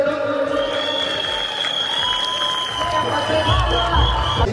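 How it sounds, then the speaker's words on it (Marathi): Audience applause and cheering at the Titwala Mahotsav festival follows a brass band performance, a steady mid-level clapping crowd with scattered whoops and a sustained high tone running through, while a voice talks over it. "एकदा जोरदार टाळ्या होत जाऊ द्या."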